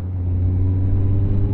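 A car rolls past on a road while a motorcycle filters through traffic, heard as a loud low engine rumble with steady droning tones and muffled wind, no talking.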